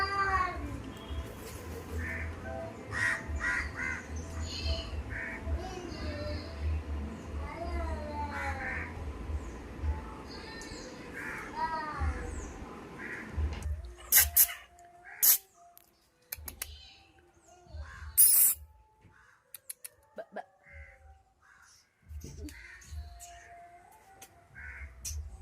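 Crows eating rice on open ground caw in short calls at first, then quieter sharp pecking clicks follow in bursts, with a peacock feeding nearby.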